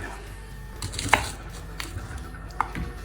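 A kitchen knife cuts through a crunchy, crumbling vegetable for borscht, giving two distinct crisp chops over a low room hum.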